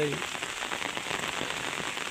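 Rain falls on an orchard field where sheep are kept, a soft, dense patter of drops continuing evenly at moderate distance, with a brief tonal sound at the start.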